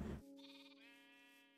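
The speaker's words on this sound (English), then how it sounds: "See, look, baby sheep." Sheep bleating in the Minecraft video game: a single clear, close bleat with a wavering, nasal tone that follows a short burst of noise and carries on alone for over a second.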